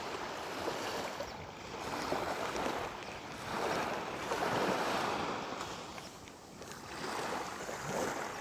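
Sea water washes over a sandy beach in steady, rolling surges that swell and fade every couple of seconds. The surf is close and fairly loud, with wind noise mixed in and no voices.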